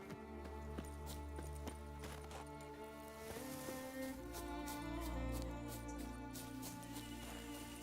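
A horse gallops in The Witcher 3 with rhythmic hoofbeats over a droning game soundtrack, steady and moderately loud.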